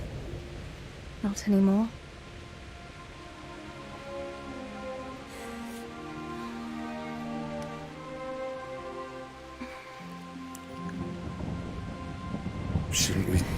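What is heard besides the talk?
thunderstorm with rain in the video game Kingdom Come: Deliverance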